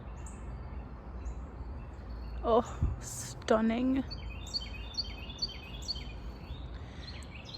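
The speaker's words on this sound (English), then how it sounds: "lots of birds as you can hear" Birds chirp and sing in the woods around a cabin, with short, light calls repeating at a moderate distance. A person speaks briefly over them.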